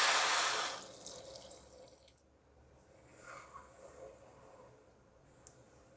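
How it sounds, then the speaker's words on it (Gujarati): Water pours onto sugar in a pan for raw mango syrup, a brief splashing rush at the start that quickly dies away, followed by faint drips and small kitchen sounds. "ખાંડ ડૂબે એટલું પાણી એડ કરીશું"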